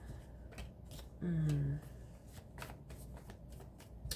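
Tarot cards being shuffled up close, a run of quick riffling flicks and soft slaps. A brief voiced sound cuts in partway through.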